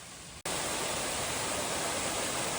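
A waterfall on the Appalachian Trail roars as a dense, steady rush of falling water. It cuts in suddenly after a brief quieter moment and then holds loud and unbroken, with no voices.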